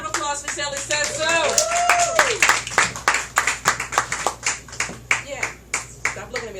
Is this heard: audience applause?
yes